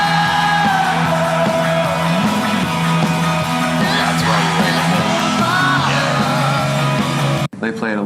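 A crowd yells and whoops loudly, sustained overlapping screams and cheers that swell and hold for several seconds before cutting off abruptly.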